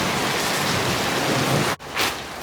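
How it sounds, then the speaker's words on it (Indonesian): Heavy rain pours in a loud, steady hiss for a couple of seconds, broken by one brief dropout before it resumes. "Hujan masih belum mereda, tapi kita tetap jalan."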